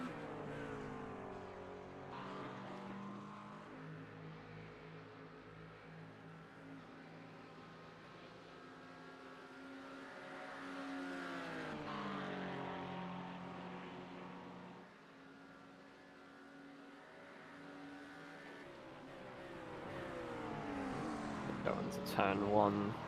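Engines of race cars, including a McLaren and a Mustang, in a sim racing game's two-hour endurance race at Barcelona drone steadily and rise and fall in pitch as they pass through gears, continuous and moderately loud.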